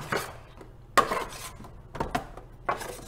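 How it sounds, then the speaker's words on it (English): Potatoes being stirred in oil in a pan before roasting, heard as a few sharp knocks and scrapes of a utensil against the pan at uneven intervals, close and clear. "Give that a little stir around so that all the potatoes are covered in oil."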